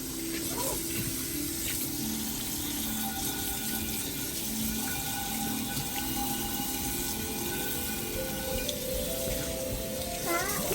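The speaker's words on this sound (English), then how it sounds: "after we doused it in some water" Water runs steadily from a tap, splashing continuously into a HexClad pan after browning chicken, with a constant rushing hiss throughout.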